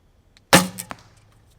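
A bare-shaft arrow leaves a barebow at an indoor range with a single sharp release snap, followed moments later by a quick double thud of impact downrange, short and close with no voices.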